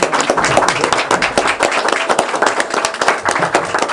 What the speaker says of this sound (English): I think she deserves a standing ovation, too.